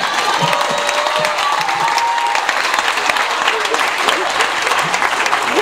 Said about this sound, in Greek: Χειροκροτήστε το Πλεόδημο